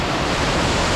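Roaring waterfall deep inside a cave about a mile underground, a steady, loud, broadband rush of falling water with no breaks.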